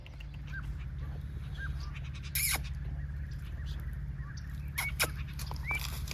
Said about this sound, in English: Even the Canada Jays came over to check us out.